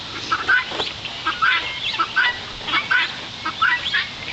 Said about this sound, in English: These guys are mandarin ducks.